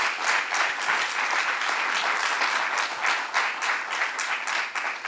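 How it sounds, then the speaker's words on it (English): An audience applauding John Jay College of Criminal Justice and CUNY at a Governor Cuomo announcement event, a sustained crowd applause of dense clapping that stays strong and steady throughout, with no talking. "let's give John Jay and CUNY a round of applause for hosting us today"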